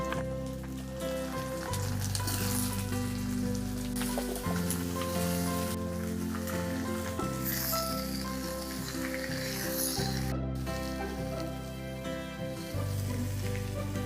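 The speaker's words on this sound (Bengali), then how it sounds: "এবারে দিয়ে দিতে হবে কেটে রাখা বেগুন আর আলু" Cut eggplant and potato fry in hot oil, giving a dense, loud, unbroken sizzle with soft stirring scrapes throughout, close up and without talk.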